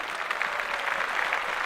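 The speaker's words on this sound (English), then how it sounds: "Clap that up." A brief burst of applause plays during a podcast conversation. The clapping is steady and moderately loud, with no voices over it, and lasts under two seconds.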